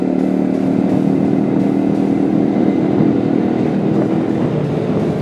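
Italika FT 125 classic motorcycle being ridden, its small single-cylinder engine droning steadily and fairly loud throughout, with wind and road noise mixed in and no talking.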